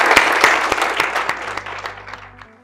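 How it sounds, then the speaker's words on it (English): An audience claps for newly promoted chief and principal researchers at a recognition ceremony, a close, loud burst of clapping that thins and fades out over a couple of seconds. "Please, let's give them a round of applause"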